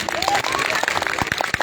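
Clapping from a live concert audience in Tarakeswar, including a child standing on a chair, with scattered individual claps over crowd noise and background voices.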